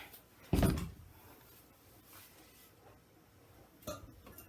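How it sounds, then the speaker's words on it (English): A soap mold of freshly poured essential-oil soap is rapped on the ground, giving one loud, close thump followed a few seconds later by a second, softer knock, with quiet room tone between and no talking. "Just gonna tap this on the ground to get everything corner to corner here"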